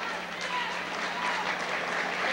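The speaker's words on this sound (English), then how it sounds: "Bill gets a hand from the crowd" Basketball crowd at a 1990 Shiloh Christian School versus Pea Ridge High School game applauding an injured player, Bill Dial, as he is helped off; steady broad clapping and crowd noise throughout, fairly distant and even.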